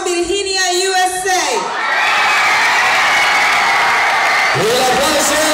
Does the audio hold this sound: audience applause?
yes